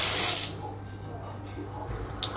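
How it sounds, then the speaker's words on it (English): A hotel shower in China runs with hot and cold water, giving a bright rushing hiss that is strongest at first, then settles into a softer, steady spray with a few light splashes. "we have shower, hot water. We have hot water and cold water also"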